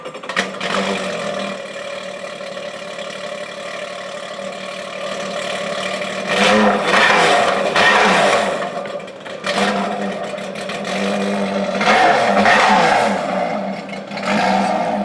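A 2021 Yamaha Superjet stand-up jet ski engine fitted with Riva Racing parts idles with a steady buzzing drone, then revs up sharply twice in loud surging bursts before settling back, heard close with no talk.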